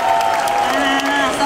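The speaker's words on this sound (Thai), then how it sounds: "ขอเสียงปรบมือ" Audience at a live stage event claps and cheers in a dense, continuous wash of applause, crowd noise filling the whole short stretch with a faint tonal hum beneath.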